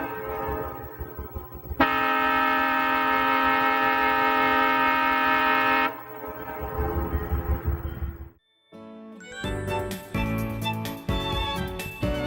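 Nathan M3R1 air horn on an EMD SD45 locomotive blasts in one long, loud, steady chord for about four seconds, with engine rumble before and after and another horn sounding near the end.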